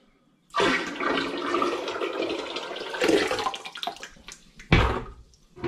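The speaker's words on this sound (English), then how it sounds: "I'm just going to pour that into the big bucket in the sink." Mango and ginger cider is poured from a pan into a large bucket in a kitchen sink, making a loud, continuous splashing gush for several seconds that tapers off and ends with a sharp slosh.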